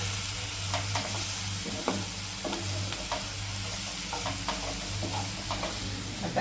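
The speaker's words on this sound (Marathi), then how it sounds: "त्याला पण चांगलं परतून घ्यायचं." Onion masala sautéing in a pan for an egg masala dish: a steady close sizzle and frying hiss with repeated scraping stirs of a spatula, a constant low hum underneath, no voices.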